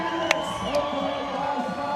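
A large crowd at a vert skateboarding final roars and cheers steadily, a dense wash of voices with a few sharp whoops rising above it.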